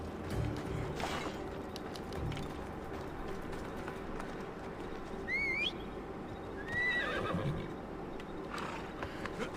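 A horse neighs twice in Assassin's Creed Odyssey, clear whinnies rising over a steady game ambience with faint hoof and mechanical clatter, no talking.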